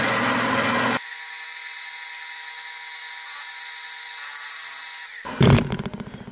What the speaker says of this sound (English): take down a little of this with a mill so that I can get a center drill in there